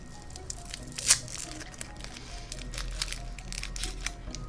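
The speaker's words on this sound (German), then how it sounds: "Ich esse in der Zeit noch einen Schokobon." A Schokobon chocolate being unwrapped and eaten, with close crinkling and tearing of the wrapper, one sharp crackle near the start, then softer rustles and small squishy chewing noises over a low background hum.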